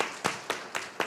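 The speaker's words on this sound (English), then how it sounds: "And one more applause," Sparse, widely spaced handclaps at a school board of education meeting honoring Mr. Josh King, about five evenly timed claps, fairly faint and roomy, with nothing else over them.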